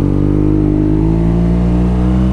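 A custom BMW R nineT motorcycle engine drones loud and steady while riding, a deep continuous rumble with no voices over it.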